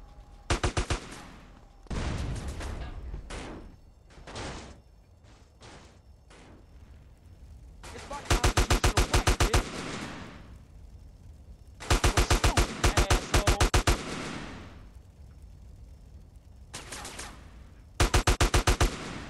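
Gunfire in the video game GTA San Andreas Definitive Edition: repeated bursts of rapid automatic shots, loud and close, separated by short gaps with single sharp reports and softer thuds between the volleys.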